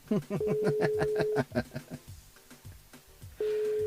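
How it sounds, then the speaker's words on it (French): A telephone line tone during a French radio call-in show, steady beeping tones cutting in and out while voices talk over and between them, fairly prominent in the mix. "Après on appelle Michel du côté de je sais pas où"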